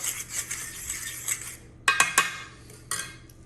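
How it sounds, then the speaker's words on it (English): Milk and eggs beaten in a bowl with a utensil, a quick series of close metallic clinks and taps against the bowl, with a few sharper strikes near the end. "Mix up the milk and the eggs. Make sure you break up those yolks."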